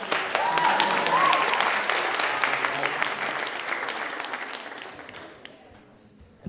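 A conference audience applauds steadily for several seconds, then the clapping thins out and fades near the end.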